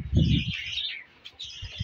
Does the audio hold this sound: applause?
no